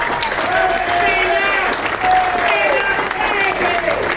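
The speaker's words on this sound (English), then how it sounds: "Let's give her a round of applause." Audience at a patriots' benefit award event breaks into a round of applause, dense steady clapping with a few whoops and voices mixed in.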